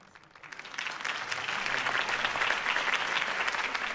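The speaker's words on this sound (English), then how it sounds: "could have heard that applause" Video game crowd applause from Batman: The Telltale Series swells quickly from quiet to a steady, full roar of clapping, held at a moderate distance.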